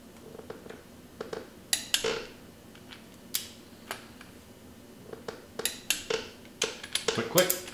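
A torque wrench set to 20 foot-pounds clicks while tightening a timing chain bolt, with a series of short, sharp metallic clicks scattered through the clip, some close together, over a quiet workshop background.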